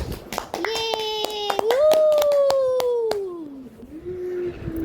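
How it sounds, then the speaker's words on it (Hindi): Guests at a wedding ring ceremony give scattered, sharp hand claps over a loud, sustained tone that slides slowly in pitch. "इस शुभ अवसर के लिए एक बार ज़ोरदार तालियां हो जाए।"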